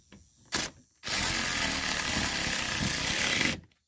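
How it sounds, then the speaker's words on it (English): An electric drill drives screws into a Ford F150 rear door, starting with a short whir, then a steady whine of about two and a half seconds, close and clear with no talk. "I'm kind of spoiled with my electric drilly thingy."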